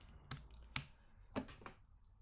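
Keystrokes on a computer keyboard while building a WordPress site, about five sharp clicks in an uneven rhythm, close and fairly quiet against a low background hum.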